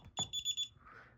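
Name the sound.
DSC Neo alarm keypad buzzer beeping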